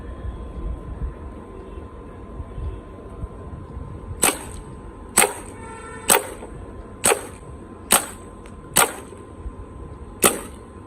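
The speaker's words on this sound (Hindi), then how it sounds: "तो बेसिकली शॉट किए गए हैं अराउंड 6 राउंड्स।" A Dan Wesson 715 CO2 4.5 mm pellet pistol fires six rounds at an even pace, each shot a sharp, loud snap standing out against a faint steady hum.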